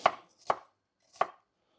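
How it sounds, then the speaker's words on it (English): Three sharp cleaver chops on a red pepper, a razor-sharp blade striking the cutting board in an uneven rhythm, close and crisp with silence between strikes. "I'm just going to chop this into relatively small pieces. I like this cleaver because this cleaver is razor sharp."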